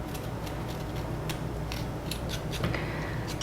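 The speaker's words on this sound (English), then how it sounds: "I'm going to peel the ginger with, this is my grapefruit spoon" A grapefruit spoon scrapes the skin off a ginger root for sushi ginger, giving soft, repeated scratchy strokes close up over a steady low background hum.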